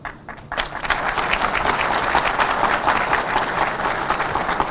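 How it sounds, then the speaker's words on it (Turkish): An audience at an organized industrial zone election speech in Diyarbakır breaks into sustained applause, dense clapping that swells in after a short pause and carries on evenly and loud. "arada alkışlarınız teşekkür ediyorum"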